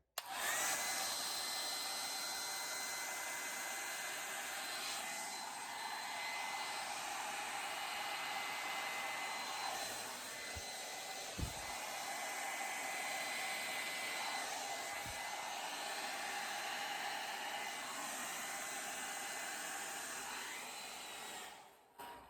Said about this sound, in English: plug in my hair dryer because again, I'm not prepared